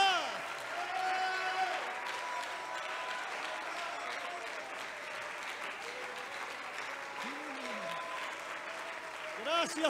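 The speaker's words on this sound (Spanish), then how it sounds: "dele ese aplauso fuerte al Señor." A church congregation applauds at a worship service, with steady, sustained clapping from a crowd throughout, mixed with voices and shouts over it.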